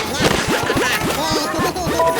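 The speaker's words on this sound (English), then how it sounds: "You heard that little cartoon glass breaking sound?" A cartoon glass-breaking effect in the Kringle Crash Christmas audio game, a loud close burst of tinkling shards followed by a rapid run of bright descending chimes scattering over about two seconds.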